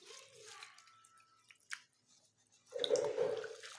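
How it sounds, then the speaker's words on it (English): Leafy greens are dipped and swished by hand in a big vessel of clean water, giving soft drips and squishy splashes up close, then a louder sloshing burst at the end. "Take clean water into a big vessel and dip your greens in it."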